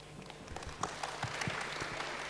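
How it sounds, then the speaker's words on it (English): Scattered applause from a blockchain event audience thanking the day's speakers, uneven claps popping out individually over a low hum of the room, fairly quiet and loosely rhythmic. "can you give a round of applause for all our speakers today?"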